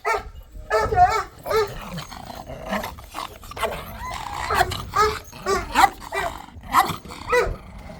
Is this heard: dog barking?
yes